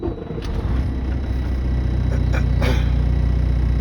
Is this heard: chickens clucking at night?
no